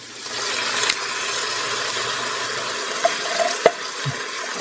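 Creamed corn is added to a pan for Brunswick stew and stirred, giving a soft sizzling wash with a few clicks and knocks of a utensil against the pan, with no voices.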